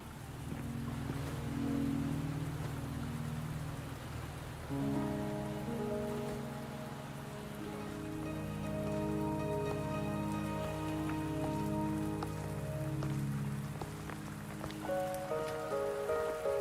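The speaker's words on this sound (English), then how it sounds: "Are you trapped here by the rain?" Steady rain hisses across the whole stretch in the video game Wuthering Waves, while sustained musical tones swell in partway through and continue alongside it.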